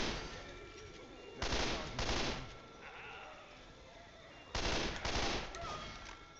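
Two bursts of rapid automatic gunfire crackle in Left 4 Dead 2, each lasting about a second or two over a steady background wash of game ambience.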